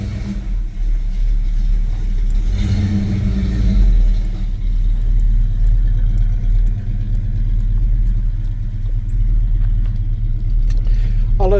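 A Chevy C10 truck with a 350 V8 and 4-speed idles steadily, a low rumbling engine note with a brief rev near the start, running on alone for several seconds.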